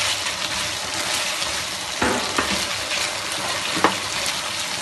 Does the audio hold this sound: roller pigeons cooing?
no